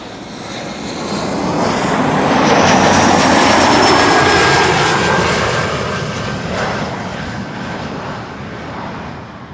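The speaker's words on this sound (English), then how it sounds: "KLM flight 758 arriving from Panama City." A KLM airliner arriving at Amsterdam Schiphol Airport makes a loud, sustained jet roar that swells to a peak in the middle and slowly fades, with a whining engine tone over the broad rumble.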